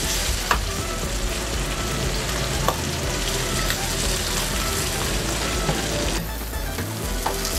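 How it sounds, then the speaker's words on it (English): Steady, dense sizzling of salmon seaweed rolls frying in a pan, continuous and fairly loud, with a few small clicks and clatters near the start and end. "I'm frying up the actual rolls that I made onto the pan, lightly frying it up, crisping up the outside"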